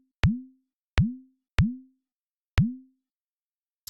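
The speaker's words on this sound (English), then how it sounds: "let's start off with just trying to make a kind of bloopy sine wave sound" A synthesized sine wave with a short decay and a fast downward pitch envelope makes a bloopy, water-like sound. Four crisp, isolated bloops sound with even gaps, each dropping quickly in pitch and fading, with silence between them.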